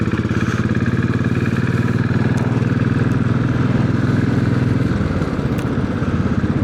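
A Royal Enfield Classic 500 single-cylinder motorcycle engine runs steadily at close range, a loud, even low thump with mechanical clatter, idling without talk.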